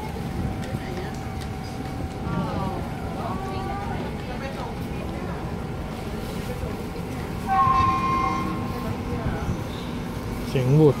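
Train horn at Rangsit railway station in Thailand, a sustained tonal blast rising out of steady station and rail noise midway through, with people talking throughout.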